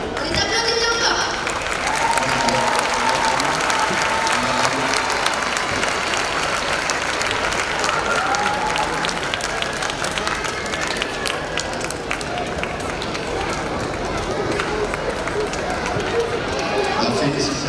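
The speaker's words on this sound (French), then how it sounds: "Les applaudissements encore!" Sustained applause from an audience at a children's award ceremony, dense and steady clapping filling the room throughout with some crowd murmur mixed in.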